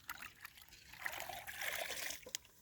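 Water trickles and splashes as a bucket is rinsed out to hold freshly caught fish on a Sundarban fishing trip, with a soft, steady dribble that swells midway.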